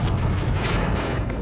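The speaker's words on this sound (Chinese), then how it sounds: "爆炸的声音" An AI-generated explosion sound effect: a dense, loud, sustained blast roar with deep rumble that fills the whole moment without a break.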